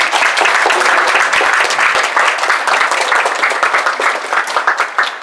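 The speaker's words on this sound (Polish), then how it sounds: "jednak z gorącymi oklaskami pocieszenia proszę kierować do Ameli Wojciechowskiej na halę kierowców." Spectators at an indoor show jumping competition giving a round of warm applause, dense continuous clapping throughout, close and loud.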